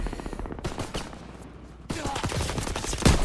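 Rapid bursts of gunfire in a WWII video game, with dense automatic fire giving way to a lull and then a heavier burst with a sharp loud shot near the end.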